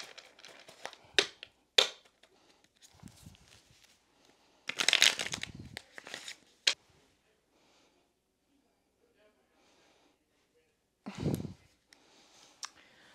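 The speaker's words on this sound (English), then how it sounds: "I'm not a professional card shuffler" Playing cards are shuffled by hand in scattered bursts of riffling and soft clicks, close and quiet, with long silent gaps between them and some breathy sounds.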